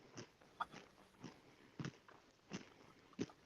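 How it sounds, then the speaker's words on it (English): Someone crunching food while eating, with soft, irregular close-up bites and chews repeating every half second or so, faint and alone. "I'm crunching, so if anybody hears any crunching,"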